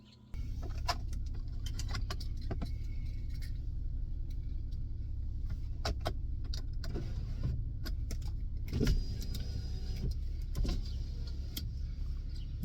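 Car interior while riding to a Walmart store, with a steady low road and engine rumble throughout, small clicks and rattles from inside the cabin, and a brief louder bump near the middle.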